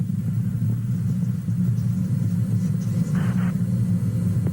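Deep, steady rumble of Space Shuttle Columbia's engines during its STS-5 launch climb, a constant low roar with no breaks.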